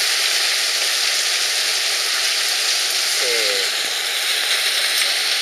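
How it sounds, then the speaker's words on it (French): A violent hailstorm in the Var, France, pelts tarps, ground, tables and a parking area with a dense, steady roar of hailstones that continues without a break throughout. "Et on a partout, il y a de la grêle de partout."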